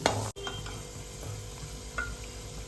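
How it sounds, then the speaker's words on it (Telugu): Raisins frying in hot oil for double ka meetha give a steady close sizzle, with light stirring scrapes and one brief dropout near the start. "కిస్మిస్ చూసారా ఉబ్బిపోయినాయి నూనెలో వేయంగానే"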